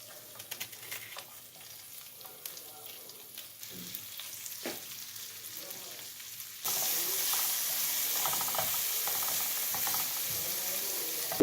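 Onions fry in a pan with a steady sizzle that jumps suddenly louder partway through, as if more food goes in, with scattered clinks and stirring sounds throughout.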